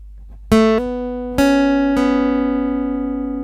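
Bright guitar notes are plucked one after another in the intro of a song, each ringing on and overlapping into a long sustained chord that slowly decays.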